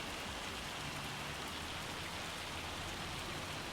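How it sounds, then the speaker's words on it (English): Hail pours down in the farming game Farming Simulator 25 as a steady, dense patter that holds even and unbroken throughout, fairly faint in level. "This hail just won't let up."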